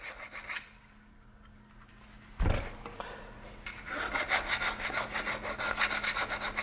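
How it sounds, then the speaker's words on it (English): A round file rasps a burr off a drilled vintage snow blower axle in quick, rhythmic back-and-forth strokes up close. A dull knock comes first, and no one talks. "So I'll just use a flyet. Kind of raised it up when I drilled through it. Use a round file."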